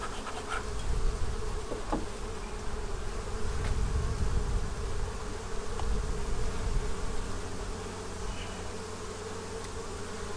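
Honey bees buzzing around an opened hive, a dense, continuous low drone of many insects close by, with individual bees occasionally passing nearer.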